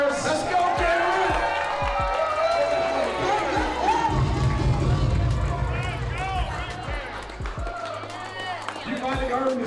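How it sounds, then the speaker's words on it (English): A crowd cheers and claps at a team awards moment, with whoops and clapping mixed in. The crowd noise stays under a loud voice that talks over it almost the whole time. "Let's give them a round of applause."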